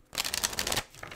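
A quick riffle of tarot cards being shuffled, a short papery flutter of rapid snaps lasting under a second, close up, followed by a softer brush.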